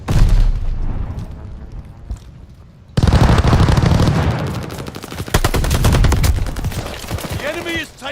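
Aircraft strafing gunfire in a video game: loud, dense machine-gun bursts roll in after a quieter opening, with rapid cracking volleys and heavy booms continuing to the end, and a voice briefly audible beneath the barrage.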